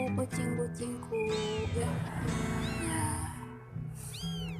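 Several cats meow repeatedly nearby, high rising and falling calls overlapping in quick succession, fairly loud and clear.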